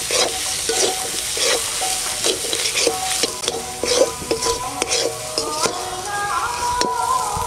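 Spice masala of turmeric, chilli powder, salt and cumin frying and being stirred in a pan for a Shol fish curry, with steady sizzling and repeated scraping strokes of a utensil, close and continuous, with no voices.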